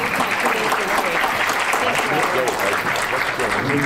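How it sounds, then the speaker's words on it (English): An audience at a World Affairs Institute panel claps steadily, a dense wash of applause filling the room, with voices faintly audible beneath it. "A round of applause for our panelists."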